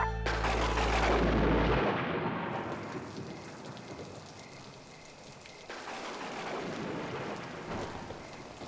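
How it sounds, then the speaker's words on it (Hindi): Torrential rain pours down in a continuous loud hiss, opening with a heavy thunder crash that rumbles and fades, the downpour swelling again toward the end. "एकदम घमासान बारिश हो रहा है। ये बारिश रुकने का नाम ही नहीं ले रही है"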